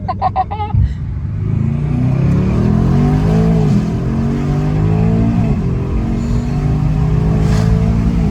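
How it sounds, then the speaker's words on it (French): A Mercedes E63 S engine tuned to about 1100 hp roars loudly from inside, revving and climbing through the gears with a turbo whine as it accelerates hard, after a brief chirp at the start. "Alors déjà là j'entends bien les turbos."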